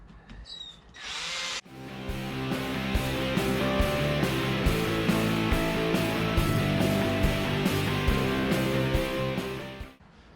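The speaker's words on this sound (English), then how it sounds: "I've got our polishing tool here. I'll apply a bit of the Plastic X, and then we'll just go at it gently, give it a nice polish up" A power polishing tool drones steadily against the plastic headlamp lens of a BMW E53 X5 treated with Plastic X polish, a loud continuous motor whine running close and alone after a brief start-up.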